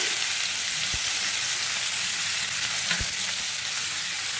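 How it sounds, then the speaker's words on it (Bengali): Onion, chopped carrot and tomato fry in a hot pan with a dense, even sizzle throughout, broken by a couple of dull knocks from the utensil, close up with no voices. "এবার আমি পেঁয়াজটা দিয়ে দেবো, কুচনো গাজরটা দিয়ে দেবো, টমেটো দিয়ে দেবো"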